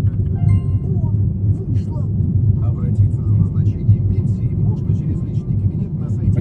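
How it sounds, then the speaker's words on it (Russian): Car accelerating in city traffic during a driving lesson in Khabarovsk, with a low, rumbling engine heard from inside the cabin under continuous speech. "Разгоняем автомобиль."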